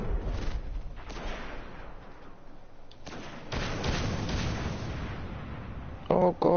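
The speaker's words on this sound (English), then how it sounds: "Oh god, he's still shooting at me." Gunfire from the video game Destiny during the Devil's Lair strike on PS4: a dense, continuous barrage of shots and thudding blasts fills the clip, growing louder midway, with a sharp burst near the end and game action throughout.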